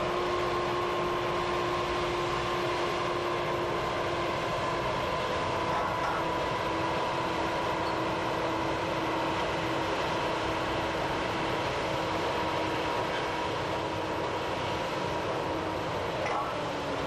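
A peat railway train rolls by on an Irish bog line, a steady continuous rumble with a faint sustained tone above it, holding at an even level throughout without any voices.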